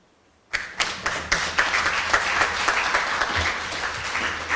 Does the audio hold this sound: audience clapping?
yes